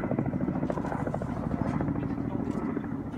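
A helicopter working as a flying crane in high mountains gives a steady, loud rotor and engine roar, with people talking over it throughout.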